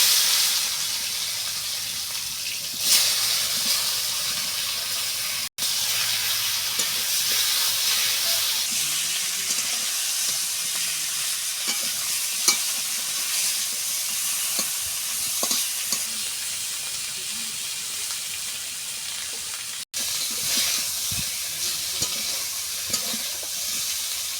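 Pieces of elephant foot yam coated in ground cumin and coriander paste fry in mustard oil in a wok, giving a steady, dense sizzle and hiss for over twenty seconds with occasional clinks and stirring, no talk.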